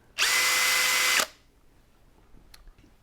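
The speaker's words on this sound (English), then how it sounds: "whichever drill bit the chuck is holding will spin at a high torque" A power drill spins up sharply, whines at a steady high pitch for about a second, then cuts off into near silence.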